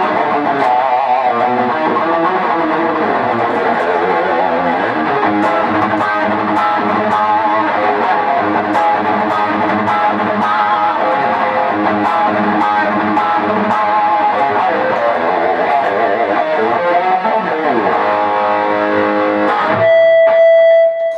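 Electric guitar played through a Digitech RP1000 and Rocktron VooDu Valve chain, sounding loud, dense and distorted with steady chords and riffs for about twenty seconds. It ends on a single sustained note.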